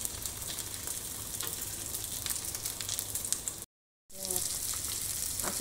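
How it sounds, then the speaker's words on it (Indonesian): Dried anchovies (ikan teri) sizzle steadily in hot oil, frying to half-dry for a jackfruit stir-fry. The dense, even crackle runs continuously and close up, breaking off briefly into a short gap before resuming at the same level. "Ini digoreng setengah kering aja."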